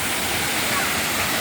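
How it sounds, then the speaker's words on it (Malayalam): Steady broadband roar of Soochippara waterfall at Meppadi in Wayanad, continuous and fairly close, with no distinct breaks across the short stretch. "സൂചിപ്പാറ വെള്ളച്ചാട്ടം വയനാട് ജില്ലയിലെ മേപ്പാടി പഞ്ചായത്തിലെ സൂചിപ്പാറ വെള്ളച്ചാട്ടമാണ്."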